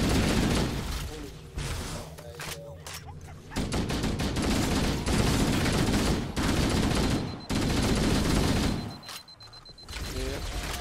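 Gunfire in Halo CE, a dense stream of automatic shots and bursts with occasional booms, loud throughout with brief gaps, and a voice faintly present beneath the combat.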